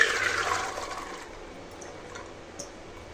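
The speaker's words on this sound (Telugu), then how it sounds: "ఈ శనగలు మునిగేంత వరకు వాటర్ పోసుకోవాలండి" Water splashes and gushes into a metal pressure cooker holding soaked chickpeas for about a second, then thins to a quieter trickle and settles.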